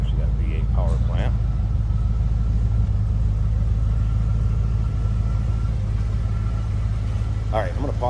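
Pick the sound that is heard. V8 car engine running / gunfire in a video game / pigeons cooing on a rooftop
V8 car engine running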